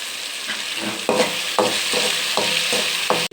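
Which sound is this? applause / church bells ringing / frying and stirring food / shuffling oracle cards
frying and stirring food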